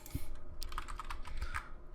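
Computer keyboard typing while code is written for a ReactJS tutorial, a quick run of close, crisp key clicks with uneven rhythm and a couple of heavier keystrokes, no talking.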